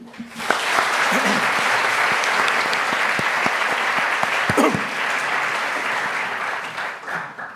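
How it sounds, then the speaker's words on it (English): An audience at a talk on Greece's economic and digital transformation breaks into a warm round of applause, a thick, steady wash of clapping that holds for several seconds before easing off near the end. "please join me in a warm round of applause"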